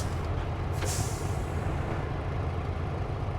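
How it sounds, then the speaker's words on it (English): A truck's handbrake gives one short, bright hiss of released air in SnowRunner. It rises briefly over a steady, loud low engine drone that carries through the whole clip. "Let's pop the handbrake on."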